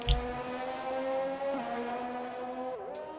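Honda race car engine heard on board during a race round in Brazil, a sustained high-pitched whine with shifting pitch and a brief dip near the end, loud and close.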